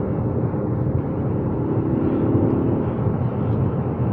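A 2013 Ford Focus ST engine pulls hard under acceleration while driving, a steady loud drone from inside the cabin with no talk over it.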